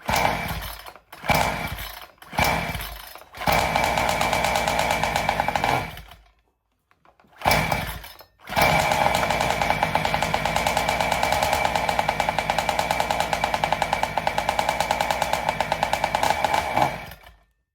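A Joncutter 5800 chainsaw running on methanol fuel sputters through a few short bursts, cuts out briefly, then catches and holds a loud, steady high-pitched buzz close by before stopping.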